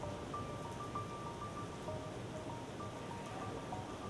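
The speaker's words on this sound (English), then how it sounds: "The UWRL rainmaker produces a uniform raindrop size of 4 millimeters." Artificial rain from a laboratory rainmaker producing uniform 4 mm raindrops at an erosion testing facility; a steady, faint patter of drops falling continuously with a few thin background tones.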